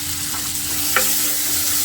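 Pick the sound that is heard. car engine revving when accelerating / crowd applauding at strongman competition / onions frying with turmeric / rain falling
onions frying with turmeric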